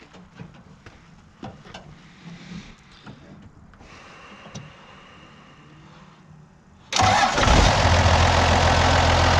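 A Cummins 12-valve diesel truck engine sits quiet under a few faint clicks and handling noises, then cranks and fires into a loud, rough diesel idle.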